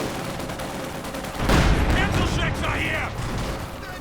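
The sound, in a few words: Panzerschreck fire in the video game Company of Heroes 2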